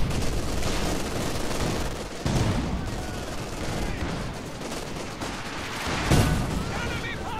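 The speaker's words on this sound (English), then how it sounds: "there's so many barrage shots going on here" Artillery barrage and rapid gunfire in a World War II tank strategy game, a dense continuous clatter of shots and booms with sharper blasts near the middle and end, with a commentator speaking over it.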